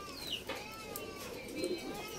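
Pet lovebirds of opaline and pale fallow mutations call from their cage, with soft coos and short chirps over a steady background hum and faint talk.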